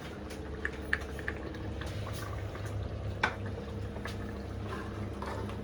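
Rice coming to a boil in a pot on the stove while cooking khandiya salan, with a steady soft bubbling hiss and a few faint pops and drips, no talking.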